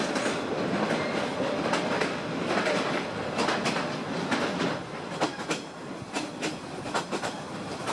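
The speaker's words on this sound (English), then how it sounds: "the train pulled into its destination" A train rolls into a station with a steady rumble and rhythmic clickety-clack from the wheels on the rails, loud and close, with no talk.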